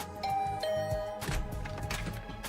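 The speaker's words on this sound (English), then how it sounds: "I rang the doorbell and waited." A doorbell chimes inside a video game, two short bright tones near the start followed by a denser chime ringing out, heard clearly with no talking over it.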